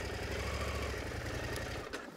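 An adventure motorcycle engine idles low and rough on a mountain descent, a close mechanical rumble that fades at the end.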